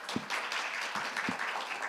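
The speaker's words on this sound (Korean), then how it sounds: "큰 박수로 맞이해 주시기 바랍니다." Steady applause from a conference audience fills the whole stretch as a speaker is welcomed, with a few sharper individual claps standing out near the start and middle.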